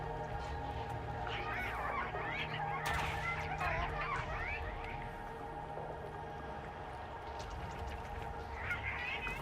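Bird honks and squawks in a video game, repeated goose-like calls in bursts over a steady background hum, with a second flurry near the end.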